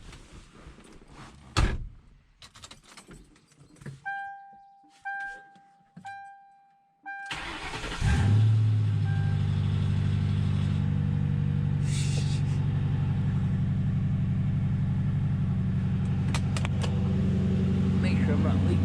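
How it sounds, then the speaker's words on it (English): A Grand Marquis 4.6 V8 with a muffler-delete exhaust. Door clunks and a key chime come first, then the engine cranks and fires with a loud burst and settles into a deep, rumbling idle that continues to the end. "take this for a test drive, see how that exhaust sounds with the new piece installed again"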